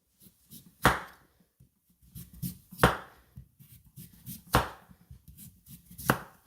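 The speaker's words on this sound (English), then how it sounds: "if you get a dull knife, you will have a hard time trying to trim this skin off" A sharp knife trims the skin off a rutabaga, giving four crisp, evenly spaced strokes against a cutting board, close and fairly loud, with quiet handling noise between them.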